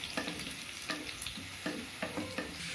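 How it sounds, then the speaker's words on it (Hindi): Onion tempering (baghar) fried until brown, a soft continuous sizzle with about six spaced stirring scrapes, quiet and close, with no speech. "बघार भी ब्राउन होती आ रही है प्याज बघार की।"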